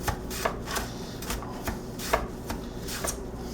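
Peeled potatoes being sliced thin on a mandoline slicer, giving a quiet run of soft, irregular scraping strokes close by, with no voices.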